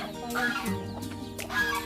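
Chickens cluck softly and repeatedly, close by in a rural orchard, with a few louder squawks breaking through a low background hum.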